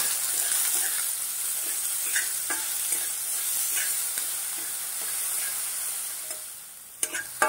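Finely chopped salted onion sizzles steadily in a pan for the whole stretch, with occasional stirring clicks and scrapes and a sharper clatter near the end.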